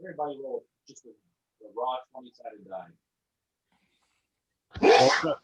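A single loud, sharp sneeze near the end, following scattered speech and a quiet pause during a tabletop role-playing game session.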